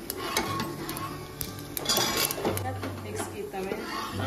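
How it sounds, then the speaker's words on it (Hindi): Cumin seeds frying in hot oil in a pan for a tadka tempering, a steady close sizzle running throughout with occasional metal clinks of a utensil against the pan, while a voice talks over it. "तड़का इसके लिए हमने जीरा डाल दिया इसमें"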